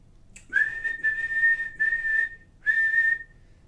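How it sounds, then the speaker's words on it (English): A coach blows a sharp, shrill whistle in several bursts: a long blast, a short break, another long blast, a brief pause, then a final blast, all loud and close with nothing else over them. "He just blows his whistle a lot."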